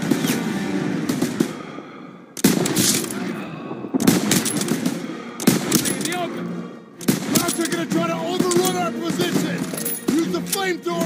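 Machine gun fire in the Call of Duty WW2 campaign mission Stronghold: sustained loud automatic bursts broken by short pauses, with battle noise and shouted voices mixed in.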